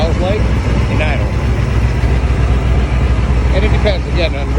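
Close, steady idle of a Camaro IROC-Z running a GMMG exhaust, a continuous low rumble throughout with faint background sounds over it.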